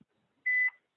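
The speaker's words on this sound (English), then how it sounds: "Ignore this beep" A single short electronic beep sounds once, a clean steady tone lasting about a quarter second in otherwise quiet surroundings during a CrossFit class.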